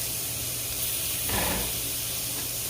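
A turkey burger patty sizzles in a frying pan, a steady close hiss with a brief louder spit midway.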